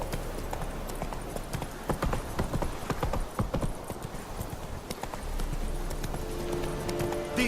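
Roach, the horse in The Witcher 3, trotting with a steady run of clip-clop hoofbeats, close and moderately quiet, with no talking.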